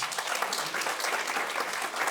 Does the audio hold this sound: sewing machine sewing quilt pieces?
no